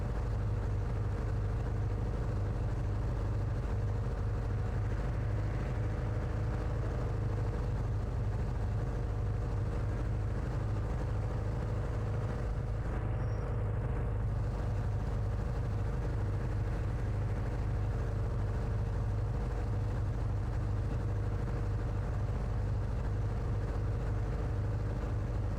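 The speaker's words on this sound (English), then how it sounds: "the car is not trying to, like, destroy our hearing" A car engine in the horror game Chilla's Art: The Radiostation runs with a steady, low, droning rumble that holds evenly for the whole stretch, with no voices over it.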